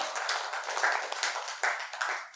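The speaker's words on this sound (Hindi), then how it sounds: "दोनों हाथ में उठाकर तालियों से अभिनंदन करें" An audience at a Hindi kavi sammelan poetry recital claps in short, uneven bursts of applause over a couple of seconds, fairly close and without speech.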